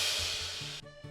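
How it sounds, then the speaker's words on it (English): Crash cymbal sample in a dirty moombahton remix: a bright, loud wash of shimmer that starts at full strength, decays steadily, then cuts off abruptly, leaving a short low tonal tail. "Of course, the crash."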